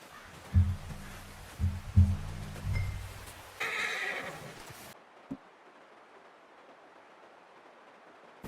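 A horse in the Red Dead Redemption II video game whinnies loudly in a few close, stuttering bursts, with soft hoof sounds, before fading to quiet ambience.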